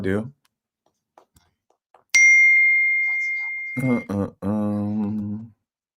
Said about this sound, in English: I gotta turn off my notifications for this group chat.